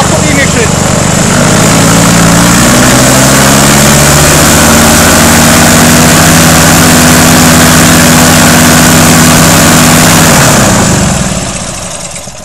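A Honda GX200-based Skybolt Eggmotor paramotor engine roars very loud and close at full power, a constant low drone with a steady propeller hum, then winds down as the ignition is cut near the end.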